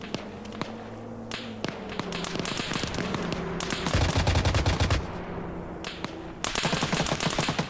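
A Kord heavy machine gun firing in Arma 3, during a Vietnam War themed Zeus operation: long, steady bursts of rapid, loud shots, broken by short pauses and then resuming, with no talk over them.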